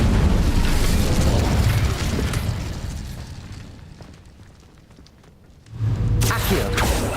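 Incendio fire spell cast in Hogwarts Legacy, a loud booming burst of flame that fades into a long crackling decay, then a second sharp blast near the end.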